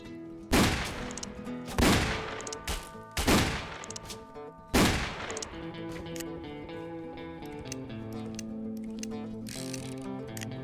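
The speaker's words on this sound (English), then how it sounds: "that's good fanning accuracy when close range" A Peacekeeper revolver in the Roblox Wild West game fires four sharp, loud fanned shots about a second apart, each followed by ringing mechanical ratcheting, then a sustained metallic clicking hum.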